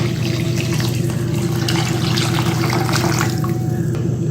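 Water pours steadily into a cooking pot while making biryani, two tumblers of water per tumbler of rice, a continuous close rushing splash with no talk.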